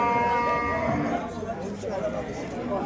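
Cattle and bullocks lowing at the Termez livestock bazaar in Surkhandarya, a long drawn moo up front that fades into crowd chatter and talking voices nearby.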